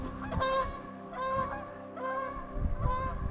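Geese honk repeatedly while fighting near a river, loud harsh calls in rapid bursts roughly every half second, close by and with no talk over them.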